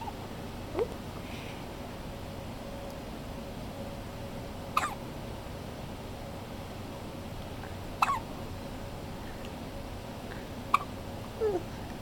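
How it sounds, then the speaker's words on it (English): A one-day-old newborn baby hiccups quietly, a few soft, brief hiccups spaced several seconds apart over low room noise. "No more hiccups?"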